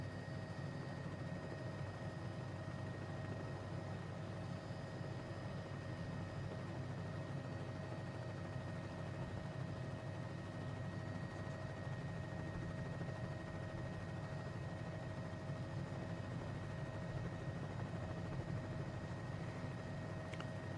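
A helicopter's engine drones continuously in Microsoft Flight Simulator 2020, with a steady low rotor hum and faint high whine, unchanging and monotonous throughout.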